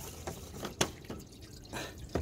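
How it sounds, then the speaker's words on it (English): Water drains from the bottom radiator hose of a VW Polo Vivo in irregular drips and small splashes, close and fairly quiet, with no voices. "now you can hear the water flowing better, okay, out of the bottom radiator hose there"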